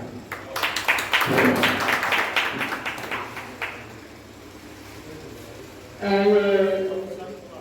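An audience at a farewell ceremony for a retiring official bursts into brief, lively clapping that fades out within a few seconds, followed by quieter room noise and then a voice speaking.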